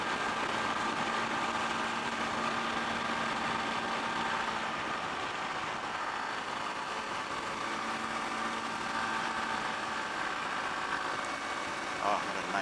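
A Honda CRF300L Rally motorcycle engine drones steadily in fifth gear while straining up hills, mixed with constant wind rush for the whole stretch.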